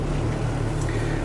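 A steady low engine hum idles on without pause, a constant rumble with no voices over it, from a car fitted with a Hybrid Racing A/C kit.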